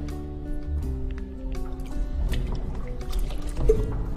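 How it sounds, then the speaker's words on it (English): Running water from rinsing conditioner out of hair during a relaxer service in a salon, a steady close trickle and drip with soft splashing, with no talking. "Then you rinse it off."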